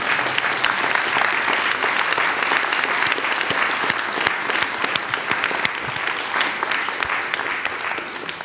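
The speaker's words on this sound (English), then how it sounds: "I don't know if we should give you a round of applause" A lecture audience gives a long round of applause, dense continuous clapping from a large crowd, loud and even, with no speech.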